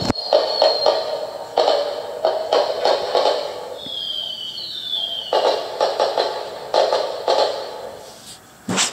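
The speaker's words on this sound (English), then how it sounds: "Beautiful fireworks." A toy castle plays an electronic fireworks sound effect: repeated bursts and crackles with a whistling rise in the middle, loud and close, in a quiet indoor room.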